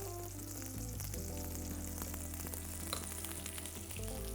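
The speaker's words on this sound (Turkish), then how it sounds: "Mantarlarımı iyice kavuracağım." Mushrooms for a chicken-and-mushroom hummus sauté in a pan, a quiet, even sizzle over a low steady hum for a few seconds.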